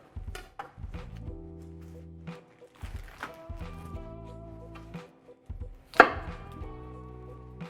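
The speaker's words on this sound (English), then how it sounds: "I just go ahead and I cut the base and then pull it apart" A knife chops through the base of a large cauliflower head on a cutting board in a kitchen, several sharp, separate thunks with pauses between them and one louder crack near the end, no talking.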